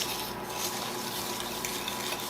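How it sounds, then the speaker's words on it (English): Graham cracker crumbs being mixed with butter and sugar for a crust, a steady close gritty scraping and rustling that runs without pause. "I'm just going to mix this up."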